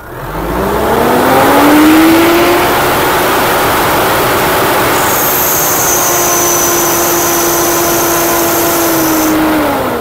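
A loud engine revs up and holds a high whine, joined midway by a harsh, high metal-on-metal grinding tone from a fault that cuts out near the end.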